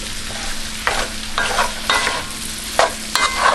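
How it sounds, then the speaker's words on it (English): Mushrooms sautéing in butter in a pan, a close, loud, steady sizzle broken by repeated scraping stirs of a utensil, with no voices. "I'm just going to throw my mushrooms in here"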